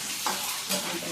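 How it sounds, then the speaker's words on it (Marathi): Eggs fry in hot oil in a wok for egg curry, giving a steady close sizzle with a couple of brief scraping stirs and no voices. "तेलामध्ये अंडी सुद्धा व्यवस्थित फ्राय होते"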